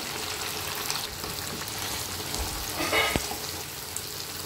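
Meat and chopped onion fry in hot oil with a steady close sizzle, joined by occasional stirring scrapes and a brief louder crackle near the end.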